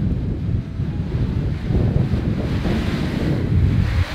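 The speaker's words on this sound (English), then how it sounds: "It's very windy." Strong wind buffets the microphone in a steady, loud low roar with gusty surges, no voices present.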